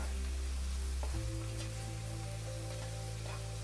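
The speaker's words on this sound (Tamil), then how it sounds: "இது கொஞ்ச நேரம் எண்ணெயிலே நல்லா வணக்கி விடுங்க" Onions sizzling steadily in hot oil in a pan for tomato thokku, a continuous close frying hiss with a low hum underneath and a few faint clicks, no talk.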